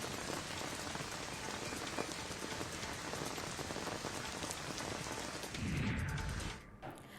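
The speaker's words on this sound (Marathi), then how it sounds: "ठाण्यात पावसाची रिपरिप सुरू झाली आहे" Steady drizzle falls in Thane, a dense, even patter of raindrops on surfaces that continues unbroken, with a brief louder gust-like swell toward the end.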